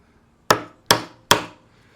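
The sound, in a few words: cutting a mortise hole in a workbench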